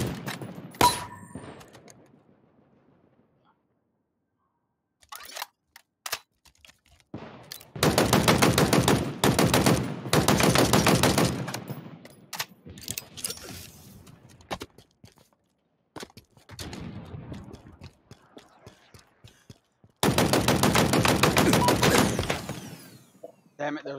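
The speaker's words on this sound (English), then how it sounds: "I'm literally shooting him from the sides" Rapid automatic gunfire in a first-person shooter video game comes in long, loud bursts between short single shots and quiet gaps, with a player talking at times.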